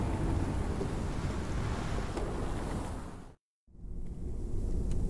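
Storm ambience in The Pillars of the Earth video game, a dense roar of wind and rain with low rumbling, broken by a brief silent gap before the storm noise resumes.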